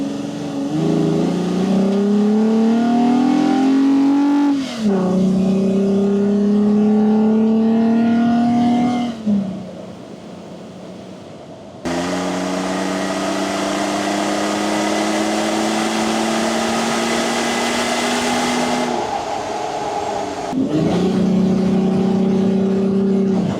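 Car engine fitted with a K&N NextGen cold air intake revs repeatedly, each rise climbing in pitch to around 4,500–5,500 RPM and then falling back, loud, close and continuous, with no talking.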